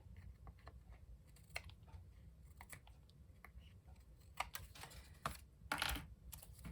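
Paper being trimmed for a card trellis makes faint, close snips and light tapping clicks, scattered irregularly with a few sharper cuts toward the end over a quiet background.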